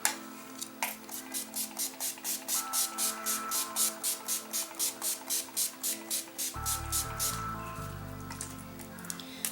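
Urban Decay All Nighter makeup setting spray is pumped in a long run of quick, even bursts, about twenty soft misty hisses close to the microphone in steady rhythm.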